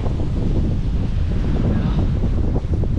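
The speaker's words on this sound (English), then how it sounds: "it's too cold and too windy" Strong wind buffets and roars against the microphone in continuous low gusts, with no voices heard.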